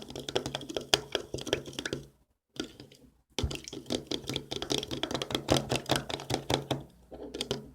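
Emerald-blue slime mixed with a small amount of hand cream is stirred, giving rapid, close, sticky clicks and squelches in uneven bursts, with one brief pause partway through.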